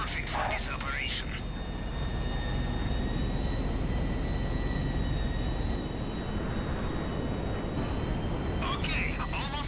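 An Alkonost aircraft in GTA V Online flies with a steady, loud jet-engine roar and a high whine that drone on throughout, with brief sharp effects near the start and end.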